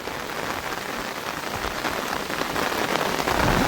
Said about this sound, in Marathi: तर मित्रांनो पाऊस बघा किती आहे